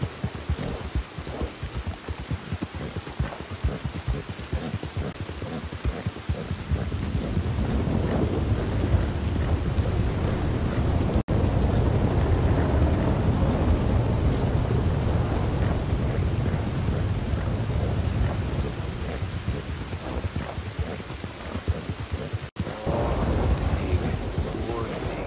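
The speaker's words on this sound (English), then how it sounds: "It's raining." Steady rain and rumbling thunder in the Western video game Red Dead Redemption 2, a broad continuous downpour swelling louder after the first few seconds, with low thunder rolls underneath and no talking.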